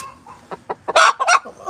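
A hen clucking close by on a farm: a quick series of short clucks rising into a few louder, sharper squawks, heard alone.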